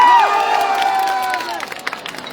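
A crowd at a farmers' rally in Botad cheers loudly, with a long, shrill, drawn-out shout standing out at the start. The noise fades into a few scattered claps.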